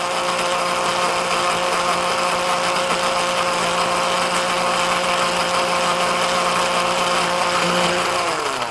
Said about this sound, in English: So I'm going to get all that into my blender.